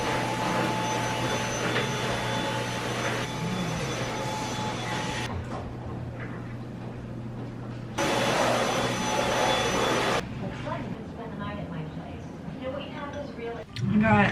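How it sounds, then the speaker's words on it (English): A vacuum cleaner droning loud and steady while a dusty room is cleaned, cutting off briefly and then starting up again, with softer household sounds between the runs. "So I'm just gonna spend like about 30 minutes mopping, vacuuming,"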